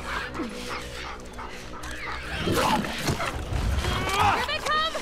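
A dog barks and whimpers in The Last of Us Part II amid tense combat, with people talking and shouting over the steady game noise.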